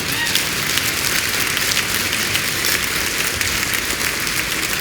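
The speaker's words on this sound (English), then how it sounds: "let's give Jennifer an applause for it" Dense, steady applause from a crowd at a keynote address during an MLK celebration at MIT fills the whole stretch, a continuous wash of clapping without voices standing out.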